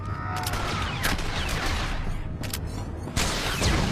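Star Wars: The Old Republic bounty hunter combat: a rapid, dense volley of blasts and bursts of fire, with sharp impacts and a louder hit near the end of the brief stretch.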